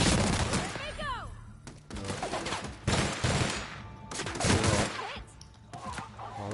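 Bursts of gunfire in the video game The Outer Worlds crack in clustered volleys, with someone talking between and over the shots.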